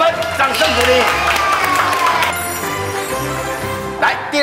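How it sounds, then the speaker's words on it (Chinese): Audience clapping and cheering on a lively stage show, mixed with crowd noise and an overlapping voice, fairly loud and close. "两位也是同灯同分，掌声鼓励"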